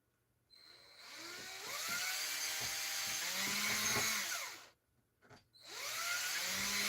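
A drill driving screws through wall paneling during a room remodel: two long whirring runs with rising and falling pitch, close and fairly loud, split by a brief pause with light clatter, no talking.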